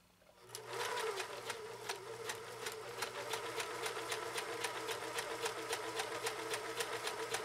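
A 1974 Kenmore 1050 sewing machine stitches through four layers of bubblegum material, starting up and then running at a steady, even rhythmic chatter, close and moderately loud.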